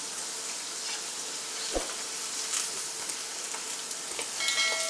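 Potato pakoda batter fries in a pan, giving a steady bright sizzle with faint crackles and a soft knock partway through, continuous and close with no talk.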